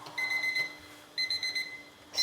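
A kitchen timer alarm rings while brown sugar tapioca pearls cook on the stove. It sounds as two short bursts of bright, rapid electronic beeping, close and fairly quiet, separated by a brief pause, with no talking.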